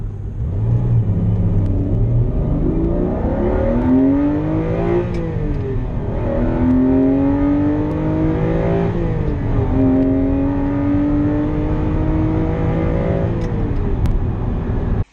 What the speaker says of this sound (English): The flat 12 sounds amazing.